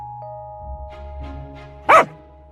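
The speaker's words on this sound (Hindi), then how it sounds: "वे कुत्ते किसी को भी देखकर बहुत भयानक तरीके से भौंकते थे।" A cartoon guard dog, one of four big fierce dogs chained around a mango orchard, gives one loud sharp bark near the end after a stretch of low murmuring and a faint steady hum.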